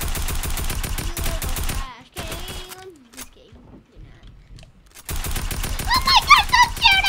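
Rapid gunfire from a Fortnite-style shooter game, with dense automatic bursts at the start and a louder run of shots near the end, broken by a quieter gap. Voices talk over it.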